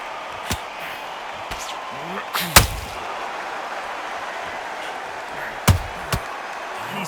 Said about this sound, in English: That counter shot lands.